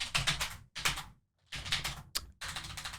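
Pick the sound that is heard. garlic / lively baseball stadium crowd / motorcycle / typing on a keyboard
typing on a keyboard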